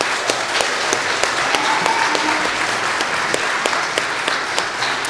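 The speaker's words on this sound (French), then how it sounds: "Merci Tim, je pense qu'on peut les applaudir." Steady applause from a congregation inside a church, with dense, continuous clapping that holds at an even level for several seconds with no voices over it.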